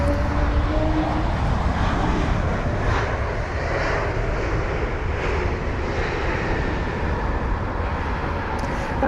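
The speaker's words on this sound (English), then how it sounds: "We'll just watch this aircraft arrive, which I think is a Lufthansa." A Lufthansa Airbus A320neo arrives at London Heathrow, its engines a loud, steady broadband roar held the whole time, with no talking.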